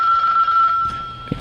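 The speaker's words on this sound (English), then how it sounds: "Phone ring." A single telephone bell rings steadily and loudly for about a second, then cuts off into quiet room noise.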